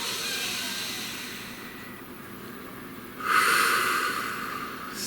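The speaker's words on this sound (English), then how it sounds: "Please take a nice deep breath" A slow, deep breath drawn in and let out, soft and breathy at first, then a louder hissing exhale swelling near the end, close and alone with no talk.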